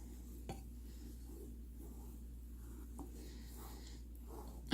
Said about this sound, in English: So now we stir.